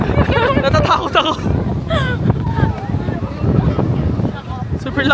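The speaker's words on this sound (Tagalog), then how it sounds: "Super lakas na hangin." Strong gusty wind in Tokyo, Japan roars and buffets the microphone while people talk excitedly over it.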